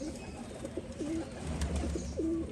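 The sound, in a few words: pigeons cooing at a pigeon farm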